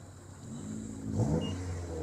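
A white Porsche with black lacquered rims at a car meet in Lille gives a brief, low engine rumble that swells slightly at a moderate distance.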